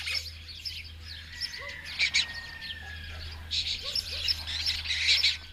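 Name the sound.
birds calling in Matera: pigeons, jackdaws, lesser kestrels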